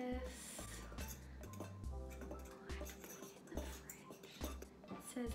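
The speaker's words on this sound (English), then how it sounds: "Okay, so now it says whisk this together." A whisk clatters against a bowl while ingredients are beaten together for home baking, a rhythmic series of quick metallic clinks and taps, close and fairly quiet.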